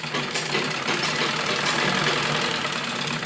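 Domestic sewing machine running steadily while stitching a seam in fabric for an umbrella frock with bell sleeves, a continuous close mechanical whir with no pauses or talk.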